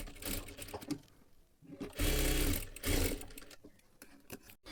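A sewing machine stitches the lining of a sleeve in short bursts, its motor running in stop-start runs with brief pauses between stitching passes, close and fairly loud.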